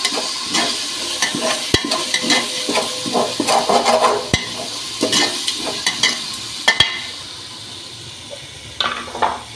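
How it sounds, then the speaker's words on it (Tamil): Ginger garlic paste sizzles in a hot pan while a spoon scrapes and stirs, with occasional sharp clinks of metal against the pan. "நல்லா வதக்கிக்க வேண்டியதான்."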